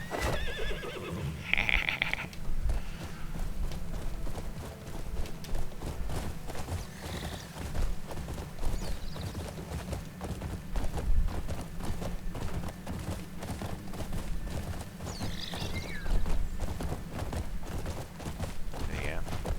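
Horse hooves clip-clop steadily while riding in the video game Crimson Desert, a quiet, continuous rhythmic patter with occasional neighs and a person talking over it.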